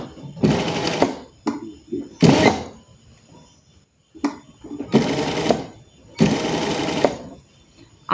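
Sewing machine stitching cloth in several separate bursts of rapid, close mechanical whirring, with quiet gaps between runs and faint handling noises.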